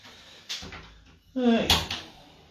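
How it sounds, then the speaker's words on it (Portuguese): An indoor door is handled to let a cat in, with a couple of short knocks and clacks of the latch and hinge amid a voice talking. "Deixa eu abrir a porta aqui que tem um gato batendo na porta"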